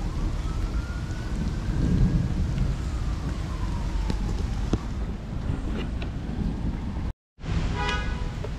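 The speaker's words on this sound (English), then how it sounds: "Worth waiting for during that storm. Massive storm." Heavy rain hisses steadily through a massive thunderstorm, with low rolling thunder and a faint wailing siren in the distance. The sound drops out briefly near the end, then the downpour returns.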